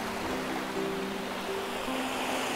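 Waves wash continuously onto a sandy beach at Nayband Bay on the Persian Gulf, a steady broadband surf rush with a faint tonal hum running beneath.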